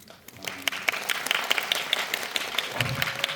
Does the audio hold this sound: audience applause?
yes